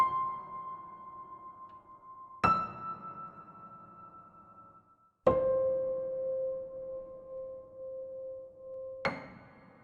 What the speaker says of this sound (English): mutes with the sustain pedal down, which gets a lot of the harmonics and all the other strings kind of ring out sympathetically